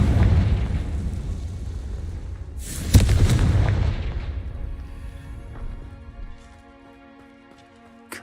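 A fiery Confringo spell blast from the Hogwarts Legacy video game erupts with a loud, broad burst near the three-second mark, then rumbles and decays over a low booming bed as a faint musical tone lingers.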